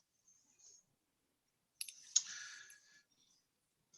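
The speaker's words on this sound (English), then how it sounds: "let's just click on this" A computer mouse clicks in a quiet room, with a faint click early on, then a sharp pair of clicks followed by a brief rustle of handling, close and soft.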